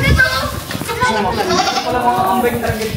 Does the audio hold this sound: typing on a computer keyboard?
no